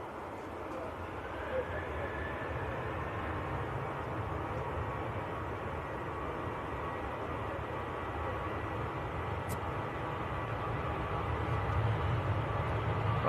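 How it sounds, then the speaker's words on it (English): A KLM airliner on its takeoff roll at Manchester Airport gives a faint, distant, steady broadband roar that swells slightly toward the end. "KLM to Amsterdam on the roll"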